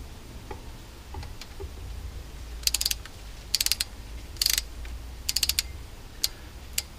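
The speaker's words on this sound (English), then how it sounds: "we'll get these here all torqued down" A ratchet wrench tightening injector bolts on a Caterpillar engine, with several short bursts of quick clicking separated by pauses, close and distinct over a low steady background.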